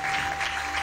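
Short burst of dense audience applause after a religious testimony, steady and moderately loud throughout.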